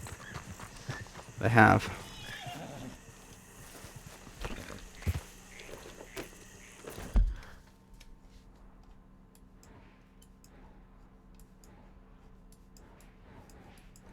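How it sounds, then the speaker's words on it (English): A horse in the Red Dead Redemption 2 video game clops and shuffles in a few scattered bursts early on, then the scene falls mostly quiet; someone speaks briefly. "Has my horse magically appeared near me?"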